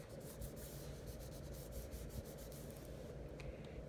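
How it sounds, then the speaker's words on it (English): A fingertip rubs a vinyl butterfly decal onto a tube in a steady, close scrubbing and rubbing sound that continues for about four seconds with an even level. "So then you want to scrub it on here"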